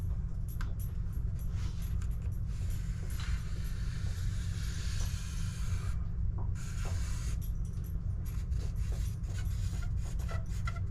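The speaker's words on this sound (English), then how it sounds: "And I'm going to draw my line." Pencil drawing a line across a wooden welcome sign board, a close steady scratchy rubbing that continues throughout over a low background hum.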